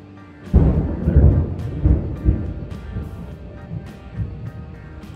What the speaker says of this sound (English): Thunder today.